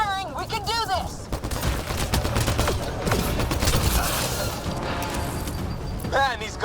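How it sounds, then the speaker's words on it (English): Sustained gunfire in the sci-fi shooter Mass Effect Andromeda, a continuous rattle of rapid shots and blasts filling the whole stretch, with a short burst of chirping effects at the start and end. "Just keep firing, we can do this!"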